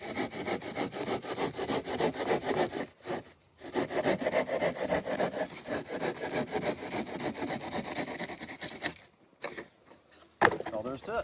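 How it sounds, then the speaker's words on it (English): A pruning saw cuts through EPS foam for an ICF foundation, rapid rasping back-and-forth strokes close and loud, with a short pause near the third second and a few choppy strokes at the end. "The pruning saw is just as fast cutting this foam"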